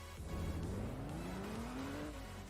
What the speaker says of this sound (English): We'll take out my SUV here. See how this one sounds.